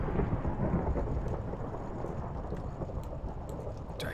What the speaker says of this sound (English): Dude, I kind of like the storm noises.